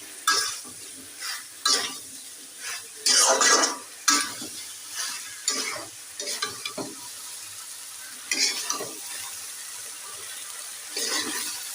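Spice paste being sautéed in a pan with a vegetable curry, a low continuous sizzle broken by repeated bursts of spatula stirring and scraping at irregular intervals, close up and without talk.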